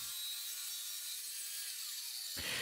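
Circular saw and table saw cutting 12mm plywood for a bench hook, heard as a steady, loud, continuous whine of the blade through the board, ending abruptly near the close.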